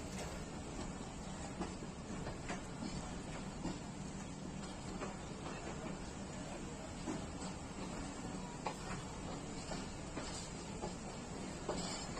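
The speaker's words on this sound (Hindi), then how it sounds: "टाइम से 10 मिनट पहले 8 down Tezgam Multan cantt railway station पे पहुंच रही है।" Pakistan Railways 8 Down Tezgam train pulling into Multan Cantt railway station, a steady dense rumble and hiss of the moving coaches with faint clacks, continuous and fairly loud, no talking.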